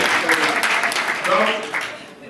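Applause from an assembly audience, a moderately loud, dense patter of clapping that fades toward the end, with some voices underneath.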